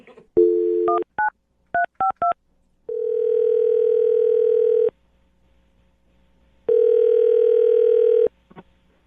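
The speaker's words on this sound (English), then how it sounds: "So we'll dial the phone number right now and see if we can get him on the phone" A telephone gives a quick run of touch-tone keypad beeps as a number is dialed, then two long, even ringing tones separated by silence, loud and clear with no voices.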